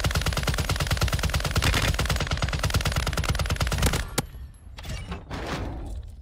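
Rapid, sustained bursts from a RAAL MG light machine gun in Warzone, a loud continuous rattle of shots for about four seconds, then scattered impacts and fading ambient noise.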